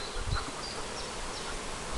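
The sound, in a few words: honey bees buzzing at an apiary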